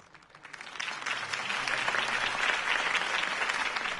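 A crowd applauds Harvey Dent's campaign speech in the Batman Telltale video game, the clapping swelling quickly from a few hands into dense, sustained applause.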